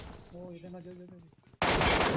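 Gunfire in PUBG, a sudden loud rapid burst of automatic shots breaking in near the end after a voice talking, dense and close.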